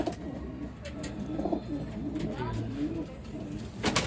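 Racing pigeons in a loft coo in soft, repeated throaty calls close by, with low background murmuring and faint movement throughout.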